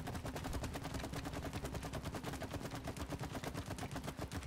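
Rapid gunfire from the video game It Takes Two rattles in a fast, continuous automatic burst at a fairly soft, steady level, with no voices over it.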